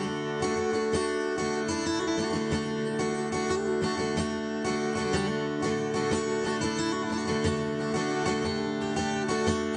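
Close acoustic guitar strumming chords, decorated with quick hammer-ons and pull-offs that flutter between notes, played continuously without talk.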